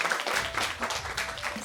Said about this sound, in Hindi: ताली बजाना चाहती हूँ, प्लीज़ आप भी बजाइए